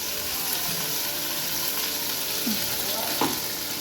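A ground spice paste fries and sizzles in a hot wok, a constant close hiss broken by a few scraping stirs of the spatula.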